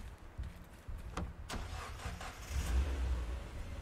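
A car engine cranks and catches in a video game, a short burst that settles into a mid-pitched rumble and swells louder toward the end, with a few sharp clicks early on.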